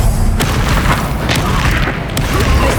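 A Confringo spell explosion in the Hogwarts Legacy video game, a loud booming blast with rumbling crackle and a few sharp bursts, close and dense.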